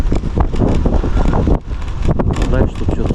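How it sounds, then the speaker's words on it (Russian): Strong headwind buffeting a microphone while riding, a loud, gusty roar with rumbling bursts that dip briefly and then surge back, with talk partly buried underneath. "теперь ветер встречный"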